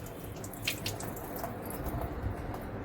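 Tap water runs steadily into a sink as lentils are washed by hand, a close, even hiss and splash with no speech.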